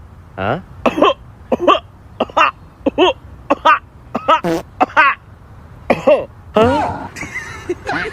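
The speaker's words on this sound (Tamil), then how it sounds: "இருமல் டாக்டர்." Repeated harsh coughing and throat clearing, a dozen or so short bursts in an uneven rhythm, close by and loud.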